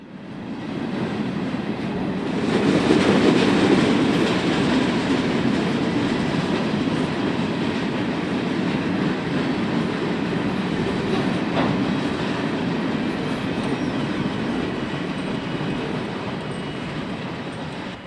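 Indiana Harbor Belt freight train carrying loaded scrap, empty steel flats and a welded rail train rolls steadily past up close, a continuous loud rumble with clickety-clack of wheels over rail joints and occasional faint squeals, no voices.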